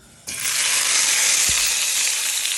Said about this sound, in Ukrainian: Гарно розігріли пательню і обсмажуємо карасі